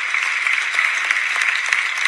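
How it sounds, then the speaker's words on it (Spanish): Steady audience applause in a large hall at the Premios Feroz 2020 awards ceremony, a dense continuous wash of many hands clapping at even loudness throughout, with no voices. "Se merece un aplauso."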